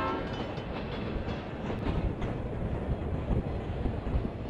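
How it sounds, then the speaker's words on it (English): A 1970-era California Zephyr passenger train races past nearby. Its rumble roars steadily and wheels clatter rhythmically over the rails throughout. "as a 1970-era Zephyr races by"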